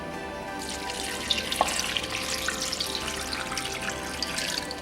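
Water pours steadily into a pot of lamb bones, onions and celery, a continuous close splashing rush with a few brighter drips.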